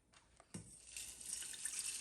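Water poured into a cooking pan while making clove tea, a steady splashing pour that starts abruptly partway through and continues, close and fairly loud.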